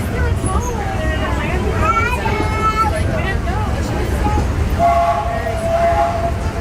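The Disneyland Railroad train rolls along its rails, a loud steady rumble with clanking from the cars, as a recorded announcer voice speaks over it and a whistle-like tone sounds near the end.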